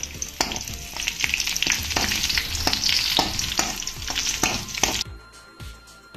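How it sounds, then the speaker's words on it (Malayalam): Curry leaves and mustard seeds sizzle loudly in hot oil for a Kerala potato curry tempering, with repeated sharp crackles and stirring scrapes over a steady close frying hiss that cuts off near the end. "നമുക്ക് കറിവേപ്പിലയോട് ചേർത്ത് കൊടുക്കാം."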